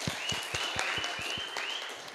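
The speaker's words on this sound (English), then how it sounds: "Give them a round of applause." Brief applause for the DJs at a carnival fete media launch, a few rhythmic claps up front over a soft crowd murmur and a faint high whistling tone.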